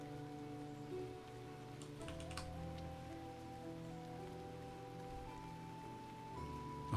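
Rain falls in the fantasy game world of Shroud of the Avatar, a soft, even patter running throughout beneath steady tonal music and a few brief chime-like ticks, with no talking.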